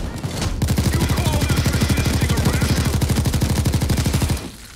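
Sustained rapid automatic gunfire from a gun in the video game Payday 2, a steady run of evenly spaced loud shots lasting about four seconds before cutting off, with no talking over it.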